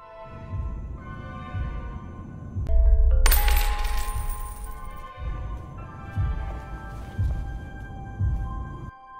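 A coin drops and rings with a bright metallic clatter as it bounces and spins to a stop. It is loud and near, heard against a continuous low rumbling background.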